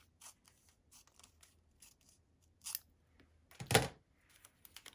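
Scissors trim fabric for a floral quilt block in a series of quiet, crisp snips, with one louder, longer cut near the end, set against a very quiet background.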